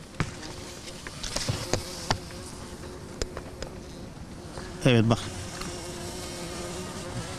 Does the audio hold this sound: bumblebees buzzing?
yes